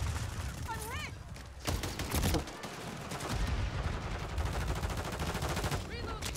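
Rapid bursts of gunfire in a Call of Duty match, dense crackling volleys layered over each other with heavy low thuds, mixed with in-game sound effects and a brief voice-like call.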